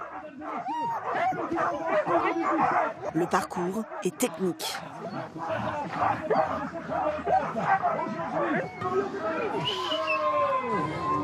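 A team of ten sled dogs barks and yips excitedly together in a continuous noisy chorus while being harnessed, with people talking over the din.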